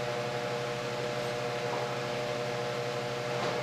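An induction motor in a generator demo runs steadily with a constant droning hum and an even hiss, unchanging throughout.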